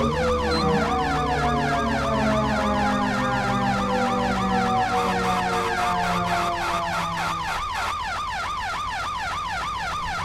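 Wailing emergency vehicle siren from the GTA game, a loud rapid up-and-down yelp repeating steadily over engine rumble, continuing alone with no talk.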